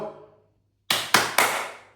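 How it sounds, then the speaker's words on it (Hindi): Three sharp, close hand claps from one person ring out in quick succession after a brief quiet, each clap crisp and decaying quickly. "ताली बजा रहा हूं"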